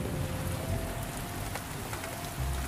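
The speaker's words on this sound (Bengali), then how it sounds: "এত জোরে বৃষ্টি পড়ছে" Heavy rain pours steadily during a storm on open water, a dense close hiss of drops drumming on surfaces with no pauses and no voices.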